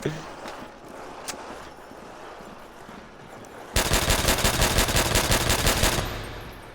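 Rapid automatic gunfire from Call of Duty: World at War Zombies on the Nacht map erupts midway as a loud sustained burst, preceded by quieter game ambience with a few sharp shots.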